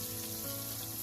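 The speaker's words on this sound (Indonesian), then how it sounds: "goreng ayam sampai kering kuning kecoklatan" Chicken pieces fully submerged in hot oil fry until crisp and golden brown, giving a steady, close, continuous sizzle and bubbling with no pauses or voices.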